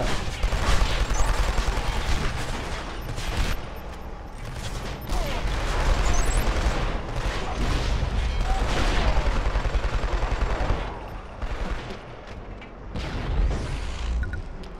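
Heavy shotgun blasts and gunfire from the Killzone 2 shooter's Southern Hills map crash out repeatedly in a dense, loud barrage, with booming explosions mixed into the continuous battle noise.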